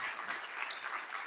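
Audience applause at a Sri Sathya Sai international conference in Nairobi, a brief, fairly faint patter of many hands clapping in a hall.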